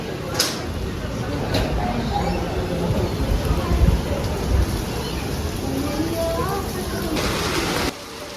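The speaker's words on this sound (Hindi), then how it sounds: "अभी आंधी के साथ साथ बारिश भी होने लग गई है।" Steady rain falling during a windy storm, a dense close wash of hiss with faint low rumbles, continuing evenly for several seconds before easing slightly at the end.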